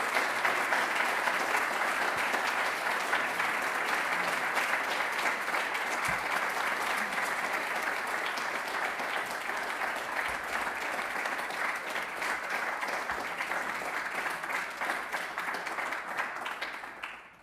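A full hall of graduation guests claps without pause, a broad, even roar of hands that carries on for a long stretch before tapering off abruptly at the end.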